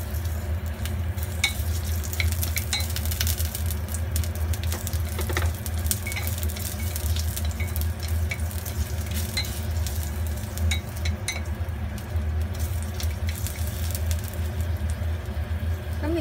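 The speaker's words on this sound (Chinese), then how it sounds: "俾啲油落去先啦， 爆香啲薑片嘅" Ginger slices fry in oil for a Cantonese pork rib, preserved radish and winter melon soup, giving a steady, fairly loud broadband sizzle with occasional clinks of a utensil against the wok.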